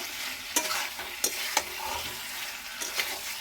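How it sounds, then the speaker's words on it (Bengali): Fried potatoes are stirred in a pan for a bata fish curry, a close, steady sizzle with a few sharp scraping knocks of the spatula. "আলুটা দিয়ে নাড়াচাড়া করব"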